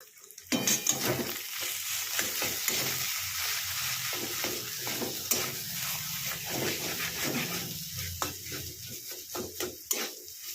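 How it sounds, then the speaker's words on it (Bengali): Mashed potato is stirred with spices in ghee in a hot pan for an aloo paratha filling, with a steady sizzle and repeated scraping strokes of the spoon, close and fairly loud throughout. "এবার এটাতে আমি এই আলুটাও ভালো করে দিয়ে এটাকে একদম ভালো করে মশলাটার সঙ্গে মিশিয়ে নেব"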